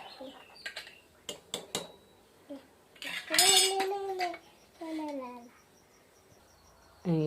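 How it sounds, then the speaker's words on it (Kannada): A pressure cooker lid being fitted and closed over pea pulao in a village kitchen: a series of sharp metallic clicks and clanks, a louder grinding scrape midway, and a final clank, with faint birdsong nearby. "ಇವಾಗ ಕುಕ್ಕರ್ ಡಕ್ಕಣ ಮುಚ್ಚಲತ್ತೀನಿ ನೋಡ್ರಿ."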